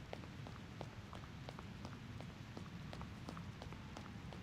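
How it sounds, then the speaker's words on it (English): Steady rain in the game Reverse: 1999, a soft continuous patter with scattered sharper droplet ticks, faint and even throughout with no voices. "As Recoleta runs through the rain"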